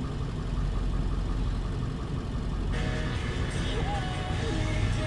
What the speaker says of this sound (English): Vehicle idles right where it's supposed to. There's no misfire, no hesitation.